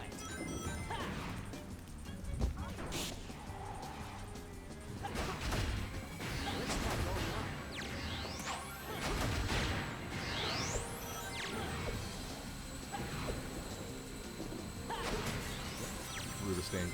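Stained glass shattering in the fan-made Sonic game Sonic P-06, a sharp crash of breaking glass among fast whooshes, thwacks and game music, with a voice talking over parts of it.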